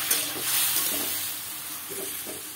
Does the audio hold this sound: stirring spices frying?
yes